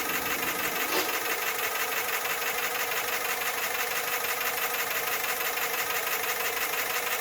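A 6.0 Powerstroke diesel truck engine runs roughly up close, with a fast, constant knocking rattle that never lets up.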